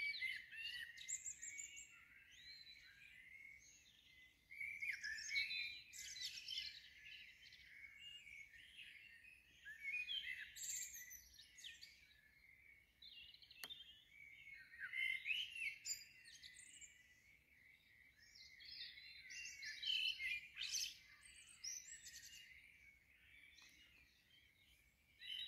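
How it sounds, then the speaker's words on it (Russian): A bird sings at dawn in England, with repeated bright chirping phrases and short pauses between them, fairly close and alone against a quiet background. "птица поет на рассвете."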